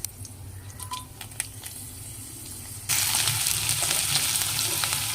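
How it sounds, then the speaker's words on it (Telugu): Tempering seeds are added to hot oil for a masala chana dal curry and fry in it. A quiet stretch of kitchen clatter gives way to a loud, steady sizzle of crackling oil that fills the last half alone. "నూనె వేడెక్కవగానే పోపు గింజలు వేసుకుందాం."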